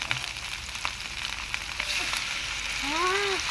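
Soy sauce poured into a hot pan of adobo with mung beans and eggplant, a steady close sizzle and frying hiss running throughout, swelling slightly near the end, with a brief voice-like tone late on.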